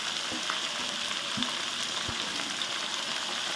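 Peas, capsicum and carrot frying for fried rice, a dense steady sizzle of oil with several low knocks of a spatula stirring the pan, close and even throughout.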